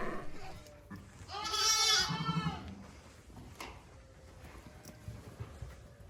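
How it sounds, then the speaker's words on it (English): A Suffolk-cross spring lamb from a Suffolk ram and white-face ewe bleats once at close range during lambing season, a single wavering cry amid faint barn noise. "that's a genuine California spring lamb"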